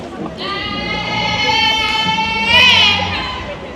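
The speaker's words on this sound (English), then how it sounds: "So they got the goats here." Goats bleat loudly and close by in long, wavering cries at a county fair animal area, with a faint murmur of people in the background.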